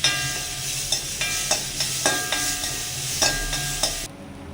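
Chili powder and black pepper powder frying in a pan for a quick Kerala rasam, with a steady sizzle broken by repeated stirring scrapes and clinks, close and without talk.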